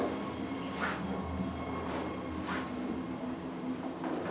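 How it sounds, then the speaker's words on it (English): Low mechanical rumble and hum of a 2002 Otis Series 4 hydraulic elevator in motion, steady and muffled, with faint whooshing swells recurring. "Definitely an interesting noise the elevator made."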